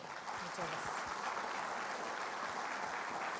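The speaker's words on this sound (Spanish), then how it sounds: "pedirle nuevamente al auditorio un gran aplauso para nuestra expositora" Steady applause from an auditorium audience at a human rights law lecture, honoring the woman who just presented; dense, even clapping fills the whole stretch at moderate level with no talk over it.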